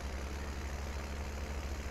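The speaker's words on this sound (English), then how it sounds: "this tractor can't pull it" A tractor in Farming Simulator 19 labours under load while running its PTO, a steady low engine drone holding at a constant pitch, close and unbroken, with no voices.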